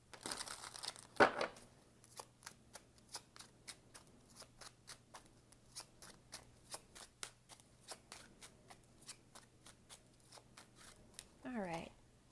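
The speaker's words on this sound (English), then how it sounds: "do one more shuffle." Tarot cards being shuffled close up, a steady run of crisp riffling flicks repeating in quick succession, ending with a brief louder rustle, with no talk over it.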